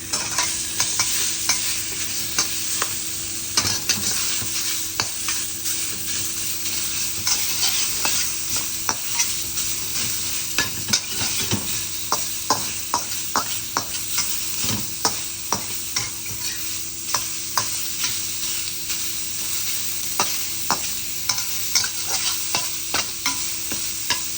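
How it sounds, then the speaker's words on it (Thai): Minced pork is stir-fried in a pan for rice with pork and soft egg, giving a steady sizzle broken by repeated scraping and clacking strokes of the spatula, close and with no talking. "ใส่หมูสับลงไปกันเลย"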